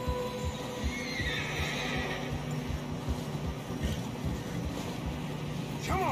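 A horse in Red Dead Redemption 2 whinnies with a rising-falling cry near the end, struggling through fresh snow, over a steady low hum and rhythmic hoof-like thuds throughout.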